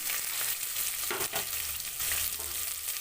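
Sliced onions sizzle steadily in a hot pan with whole spices such as star anise while ghee rice is being cooked, a dense, constant crackle broken by a few stirring scrapes.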